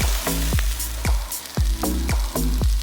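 Eggplant cooks in curry powder and cumin in a pan with a steady sizzle, punctuated by several repeated sharp thumping knocks at a fairly regular rhythm, close and loud.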